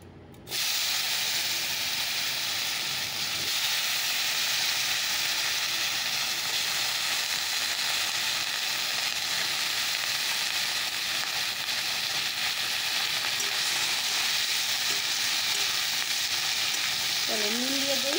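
Pointed gourd and eggplant pieces frying in hot oil with a cumin and dried red chilli tempering for a Bengali fish curry, a loud, continuous close sizzling hiss that starts abruptly and holds steady throughout.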